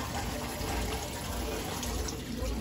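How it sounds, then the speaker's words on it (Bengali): Water runs steadily from a tap as hands are washed before a meal, a continuous close splashing hiss with no pauses. "খাওয়ার জন্য হাত ধুয়ে রেডি হয়ে যাচ্ছে আর হয়ে গেছে ধোয়া"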